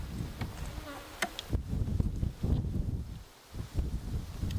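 Honey bees hum and buzz steadily at an open hive during an inspection, a dense low drone close by with occasional louder passes and faint handling rustles.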